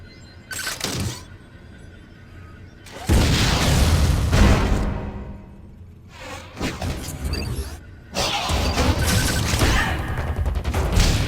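Missiles blast in the Nintendo game Metroid: Other M, with three loud, broad explosive bursts separated by short quieter gaps, each booming and crackling with debris-like noise.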